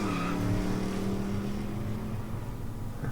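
Visual novel sound effect of a car pulling away, a low engine drone whose pitch shifts briefly as it accelerates, then settles and fades slightly over a few seconds.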